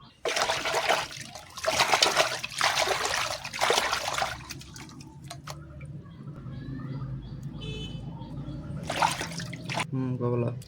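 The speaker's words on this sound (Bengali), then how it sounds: "এখন চেপা ধুয়ে নিলাম।" Chepa dried fish is being washed in water, with bursts of pouring and splashing followed by quieter trickling and dripping. It is close and fairly soft, and a brief voice can be heard near the end.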